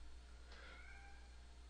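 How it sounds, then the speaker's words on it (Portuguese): A single cat gives one faint, drawn-out meow, rising and then trailing off, heard alone over a steady low background hum. "Meu gato, doido."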